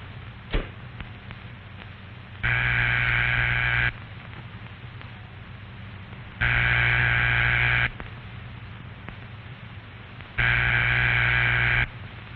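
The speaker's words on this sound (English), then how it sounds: "It tells you that the telephone at the number you called is ringing" A steady telephone ringback tone sounds three times, each burst about one and a half seconds long with longer quiet gaps, over faint background hum.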